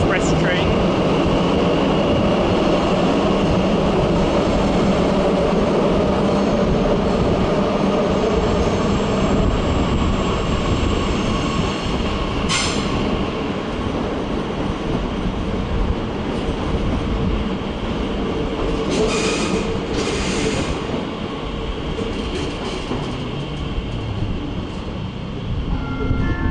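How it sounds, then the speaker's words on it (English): A National Express Talent 2 train rolls through Köln Hauptbahnhof, a steady, fairly loud rumble of wheels and motors holding level for the whole stretch, with faint station noise around it. "there goes that National Express train"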